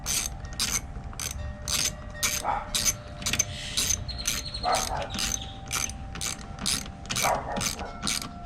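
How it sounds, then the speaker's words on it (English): A hand ratchet clicks in steady rapid bursts while tightening bolts on a Honda lawn mower, close and crisp, with short pauses between strokes. "Let me get a ratchet and an extension."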